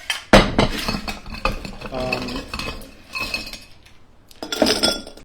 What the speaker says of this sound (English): Put some ice in the glass here first.